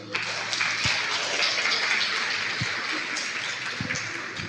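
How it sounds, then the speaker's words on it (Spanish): Steady applause from an audience at a parish talk, a dense wash of clapping holding at an even level for several seconds, with occasional low thumps. "Vamos a brindarle un fuerte aplauso"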